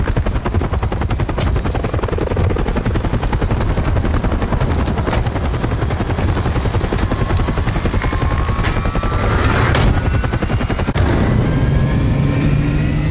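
Helicopter rotor thump from Modern Warfare III, a dense continuous chopping drone mixed with rapid bursts of gunfire and sharp crackling shots, loud and busy throughout, with a whooshing swell near the end.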